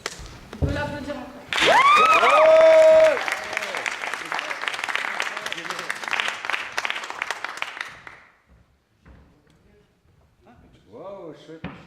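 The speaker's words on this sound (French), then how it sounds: "On peut l'applaudir encore." Audience applause after a performance at a cultural venue, a burst of clapping mixed with voices and musical tones, fading into quieter scattered sounds and talk toward the end.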